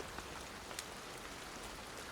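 Heavy rain pouring in the swamp setting of the video game Hunt: Showdown, a steady faint hiss with scattered sharper drops and patters, no voices.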